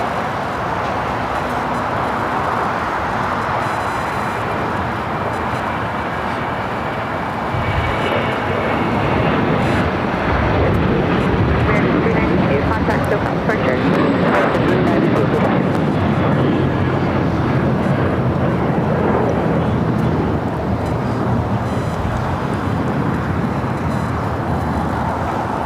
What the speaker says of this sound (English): Next takeoff is a flight heading to Austin, Texas. American Airlines flight 392, 737 800.